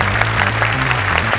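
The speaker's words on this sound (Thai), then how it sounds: "อยากจะให้ทุกท่านนะครับปรบมือดังๆนะครับให้กับจอบหยอดปุ๋ยด้วยนะครับ" An audience at an innovation awards event applauds continuously with dense, steady clapping, while low music plays underneath.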